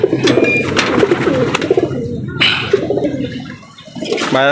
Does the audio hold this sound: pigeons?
yes